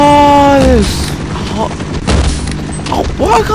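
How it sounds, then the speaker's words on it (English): Heavy gunfire and booming blasts in the Half-Life: Operation Nova game, a few loud impacts and short bursts mixed with mechanical clatter and game sound effects, close and punchy. "But no, we have to shoot the machine gun."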